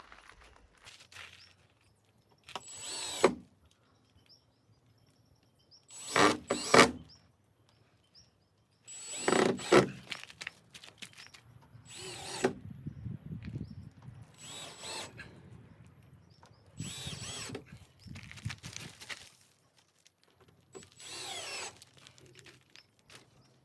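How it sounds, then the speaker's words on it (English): Power drill driving screws into the wooden window frame of a backyard shed, in several separate bursts of whirring a few seconds apart with quiet gaps and faint shuffling between them. "I'm going to go ahead and punch in the screws now."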